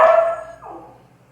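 A dog barks once loudly up close, followed by a shorter, softer yelp trailing off, with no talking over it.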